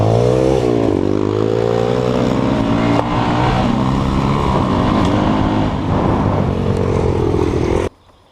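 A Geon X-Road Light 250 motorcycle engine revs and holds a high, droning pitch, rising at first and sustaining before cutting off abruptly near the end.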